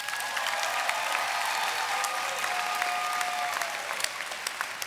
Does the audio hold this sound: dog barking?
no